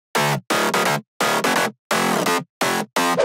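Future house mid bass processed with saturation, distortion, OTT, Soothe and EQ pulses in a run of punchy, gritty stabs with brief gaps, bright, dense and loud, with no talking.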